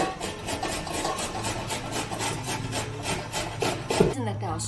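Beetroot is rubbed against a grater for chutney in a quick, regular series of rasping strokes, close and fairly loud, with a brief pause and clatter near the end.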